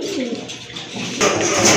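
A pigeon coos close by in a series of soft, throaty calls, then a brighter burst of noise near the end; nobody speaks.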